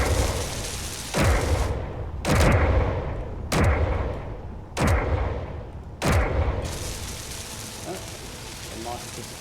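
Heavy guns in the space-building game Space Engineers fire five booming, evenly spaced shots about a second apart, each with a rumbling decay, while a voice talks faintly beneath.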